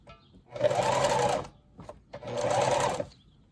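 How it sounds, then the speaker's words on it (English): A sewing machine stitches a ribbon tutu in two steady bursts, each about a second long, separated by a short pause and a click as it backstitches, close and clear with no talking. "So I'm gonna like sew it, Then I'm gonna backstitch."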